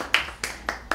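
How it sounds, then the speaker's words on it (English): Four separate, sharp handclaps ring out with roughly even spacing in a quiet room at a community salon event, close and crisp with nothing else heard. "Clap now, please."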